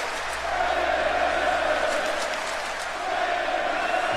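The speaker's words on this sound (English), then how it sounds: "The crowd are cheering on both of these women here tonight" A steady, dense roar of a cheering crowd fills a wrestling arena in a WWE 2K match, holding at an even, loud level throughout with no break.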